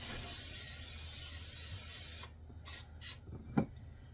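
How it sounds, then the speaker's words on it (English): Cooking spray sprayed down onto a new baking pan: a long continuous close hiss, then a pause and two or three short spray bursts with a faint clack, and no one talks. "We're going to spray down our pans real good."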